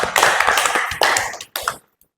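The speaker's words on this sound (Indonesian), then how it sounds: "kasih tepuk tangan lagi." Bursts of audience hand clapping in a classroom presentation setting, a few waves of applause fading out within two seconds and ending in silence.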